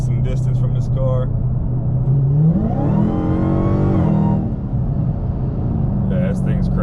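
A Dodge Challenger Hellcat pulls hard from inside the cabin, its engine rising sharply to a high roar and then easing off over a constant low rumble. A voice speaks briefly at the start and the end.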